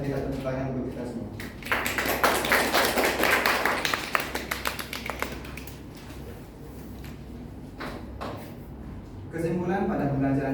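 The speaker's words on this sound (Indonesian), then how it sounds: "mari kita tepuk tangan untuk kita semua" A class claps their hands together in a classroom, a dense burst of clapping that swells, then thins out into a few scattered claps before talking resumes.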